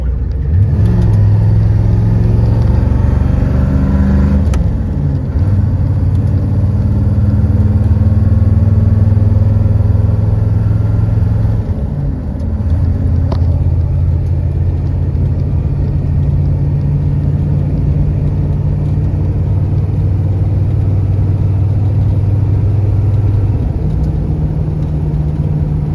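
A 1989 Ford F350 pickup with a 7.3L diesel drives down a road, its engine giving a loud, steady low drone from the cabin with a couple of gear shifts and no voices.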